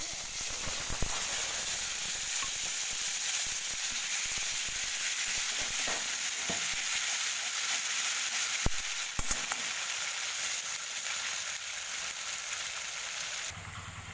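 Spice paste with salt and turmeric frying in a pan for a light boal fish curry, a steady soft sizzle and hiss throughout with occasional stirring clicks.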